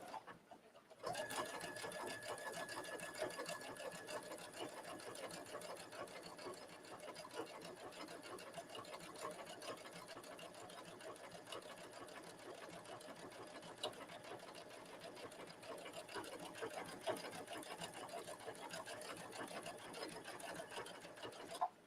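A sewing machine top stitches a trench coat at a slow, careful pace, its close, continuous mechanical whir running alone and unbroken for the whole stretch.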